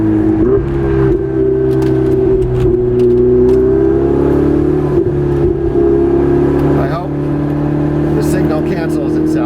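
Ferrari 488 Spider's 660-horsepower engine pulls hard under acceleration, a loud steady drone with rising harmonics heard from inside the car, with people talking over it.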